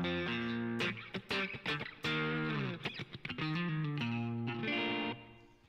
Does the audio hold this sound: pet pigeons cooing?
no